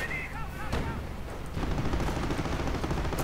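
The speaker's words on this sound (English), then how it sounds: "Artillery firing away." Artillery fires in a 2v2 World War II strategy video game match: a crisp opening crack, then heavy booming blasts that roll into a dense, continuous rumble of battlefield gunfire.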